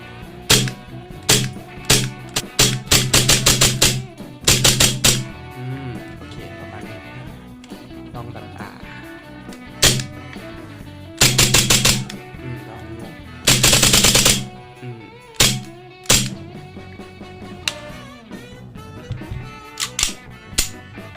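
A custom Hi-Capa 4.3 airsoft BB pistol fires single shots and rapid bursts. The sharp snaps are loud and close, with short pauses between strings and no talking.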